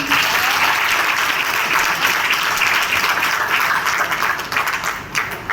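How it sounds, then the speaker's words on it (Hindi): A crowd at a direct selling seminar in India breaks into loud, sustained applause, a thick steady wash of many hands that tapers slightly near the end. "एक बार जोरदार तालियां बजाएं"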